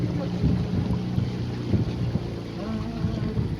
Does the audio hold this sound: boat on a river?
yes